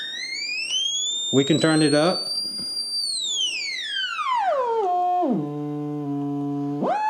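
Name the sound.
900 Hz sine tone from speaker in car radio troubleshooting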